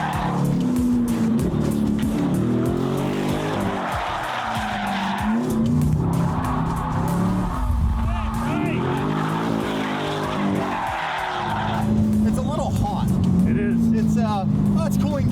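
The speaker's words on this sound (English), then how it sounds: "the action they got in with the C8, going around the track and getting some sideways action" A Corvette C8 drifts sideways around a track, its engine revving hard while the tires squeal and skid almost without a break, loud and close.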